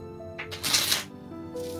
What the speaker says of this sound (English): That is some serious shuffling going on here.